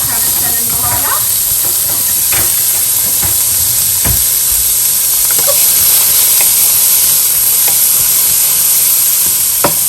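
Onions frying in a pan for spring rolls, giving a steady, loud sizzling hiss throughout, with faint stirring clicks and a voice talking in the background.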